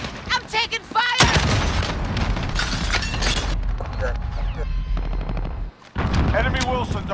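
Call of Duty Modern Warfare multiplayer match with loud close machine-gun bursts, rapid rattling fire, explosions and shattering impacts, mixed with in-game voices calling out over the chaos.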